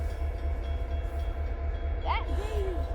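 A passing train makes a continuous low rumble throughout, and a brief rising squeal, like a whistle, cuts through near the end.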